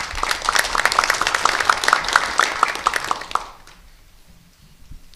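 Audience applause welcoming the head of a science and technology policy research institute at a Korean government advisory forum, sustained dense clapping that fades out after a few seconds into near silence.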